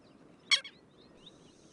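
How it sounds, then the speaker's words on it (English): Southern lapwing on the Venezuelan plains giving a single sharp, harsh alarm cry with a quick softer echo note, brief and moderately distant over faint ambient outdoor noise. "When the lapwing sounds the alarm"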